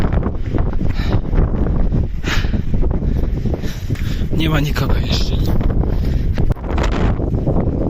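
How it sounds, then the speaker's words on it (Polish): Strong wind on a mountain summit roars and buffets steadily against the microphone throughout, a heavy rumbling gust with brief spoken words heard beneath it. "mega wieje wiatr"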